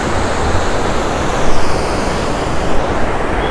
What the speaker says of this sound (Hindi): ये ब्यास नदी है